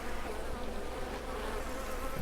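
Bees buzz in the farming video game Farmers Dynasty as a soft, continuous insect drone, low in level and steady throughout.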